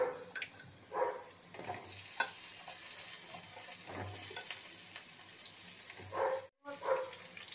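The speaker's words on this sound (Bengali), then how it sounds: "এই মাছ ভাজার তেলেতেই আমি লম্বা লম্বা করে আলু কেটেছি, আলুগুলো দিয়ে দিচ্ছি।" Long-cut sliced potatoes frying in oil left over from frying fish, a steady soft sizzle with occasional stirring clatter and a brief drop near the end.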